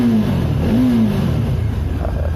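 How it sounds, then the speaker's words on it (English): A car engine is revved loudly up close, the pitch briefly swelling and dropping in a single quick rev over a continuous heavy rumble. "Hopefully another rev bomb."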